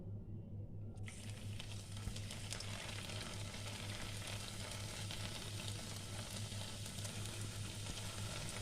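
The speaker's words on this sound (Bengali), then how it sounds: "গরম হয়ে গেছে, এবার আমি এটা ভেজে নেব" Gaja dough pieces deep-fry in hot oil with a steady, dense sizzle that starts after a brief quieter moment and continues evenly, fairly faint and close, with no voices.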